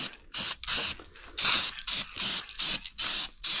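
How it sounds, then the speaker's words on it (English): Duplicolor white engine enamel sprayed from an aerosol can over clear coat in a car engine bay, in about nine short, loud hissing bursts with brief gaps between them and no talking. "I am spraying it right on top of that clear coat"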